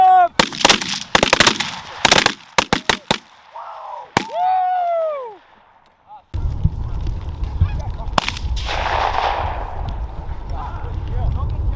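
Shotgun blasts during a Minnesota goose hunt on molt migrators over a field, several sharp shots in quick succession with geese honking around them, followed by voices and wind noise.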